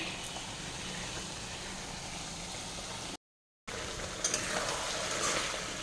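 Chicken frying in a pan, a steady broadband sizzle that holds level throughout, cut by a brief gap of silence partway, then resuming slightly brighter with small crackles.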